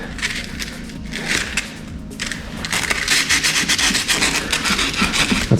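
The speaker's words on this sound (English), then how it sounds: "I have some extremely coarse sandpaper here, and all I'm going to do with it, try to just clean off all the corrosion" Coarse sandpaper rasping hard against a corroded metal terminal, a steady, close, loud scrubbing that grows stronger and more rhythmic midway, with no voices.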